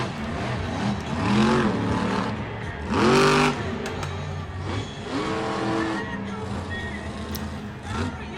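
Monster truck engines rev at Bristol Motor Speedway, loud swelling roars with rising pitch sweeps in several bursts over a constant rumble, with commentary running over the engine noise.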